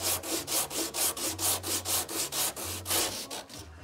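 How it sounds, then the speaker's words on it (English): Coarse 36 grit sandpaper wrapped around a piece of broomstick sands a cured mix of microballoons and epoxy, giving steady rhythmic rasping strokes about four per second, close and alone. "piece of a broomstick wrapped around some, I think it's 80 grit, no, it's 36 grit sandpaper to sand this combination of microballoons and epoxy."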